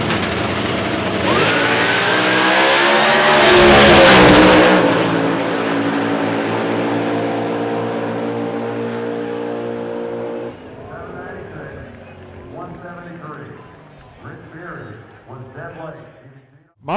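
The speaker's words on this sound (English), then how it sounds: "That is a Don Schumacher fielded Dodge, the drag pack" A Don Schumacher Racing Dodge Drag Pak launching in an NHRA Factory Stock drag race at the 2020 U.S. Nationals, a loud engine roar that peaks and then fades down the track, with crowd and announcer noise after it.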